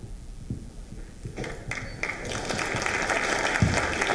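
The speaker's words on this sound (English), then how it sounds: "let's have another round of applause for our presenters" A classroom audience at a student writers' event breaks into applause that starts sparse with a few scattered claps, then swells into steady clapping from a small group.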